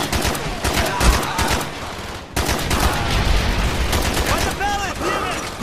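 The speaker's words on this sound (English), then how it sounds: "Firing mortars!" Gunfire and mortar blasts in a Call of Duty Black Ops battleground match, with dense crackling rifle and machine-gun bursts, a brief break, then sustained fire and whistling shells, loud and continuous with shouted voices mixed in.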